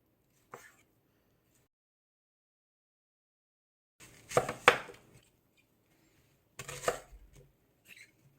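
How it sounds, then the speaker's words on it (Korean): A knife slices thick pieces of raw salmon for Korean salmon jang: a brief cut, a pause, then two short clustered bursts of crisp chopping against the board, fairly close and quiet between strokes. "그래서 조금 도톰하게 썰고 있습니다"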